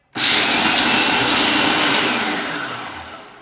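A food processor grinds a chewy chocolate bar mixture in one loud, continuous whir that starts abruptly and holds steady before easing off slightly near the end.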